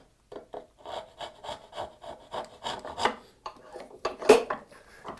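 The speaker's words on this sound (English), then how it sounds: "And now we can cut down the line I can see." Hand saw cutting a sunrise dovetail joint in wood, with a steady run of about a dozen rhythmic rasping back-and-forth strokes, close and clear with no talking.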